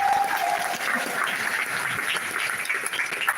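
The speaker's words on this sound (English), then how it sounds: "He gets a loud applause." Sustained applause from a graduation audience at Lancaster University as a graduate crosses the stage, a dense steady clatter of many hands clapping throughout with no pauses.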